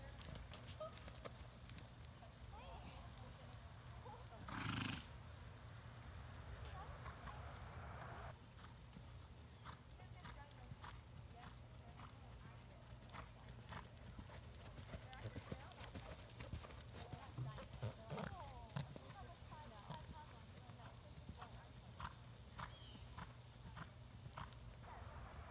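A horse's hooves clip-clop steadily as it is ridden in a riding session, faint and continuous at a distance, with an instructor's voice talking over parts of it.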